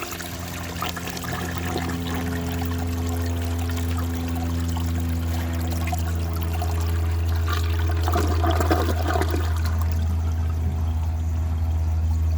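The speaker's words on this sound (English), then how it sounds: "Now, let's see if it can take a grocery bag. It should do really well on this." A 1974 Borg Warner toilet flushing a grocery bag in a flush test, a loud continuous rush of water with steady low hum, swelling gurgle near the end, close and without speech.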